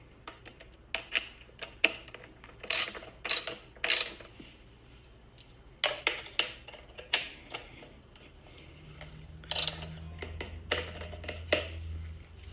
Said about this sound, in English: So we've got 2 bolts here that we're going to take out, and this is a number 5 Allen's socket.